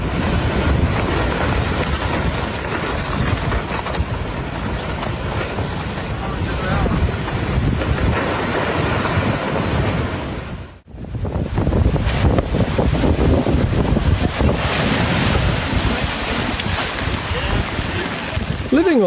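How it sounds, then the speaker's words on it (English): Storm waves crash against the seafront at Saint-Malo, a loud, continuous roar of churning surf and heavy wind buffeting the microphone, broken briefly by a sudden dropout before the pounding water resumes. "the waves began tearing their home apart as if it"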